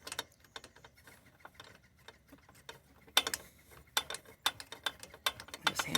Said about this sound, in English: And then throw the socket wrench on. And just a matter of making it good and snug.